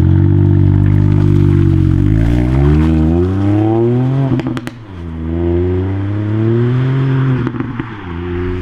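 A Ford Fiesta ST Mk8 hot hatch accelerating hard, its engine note climbing repeatedly through the gears with brief dips at each shift, loud and close with no speech.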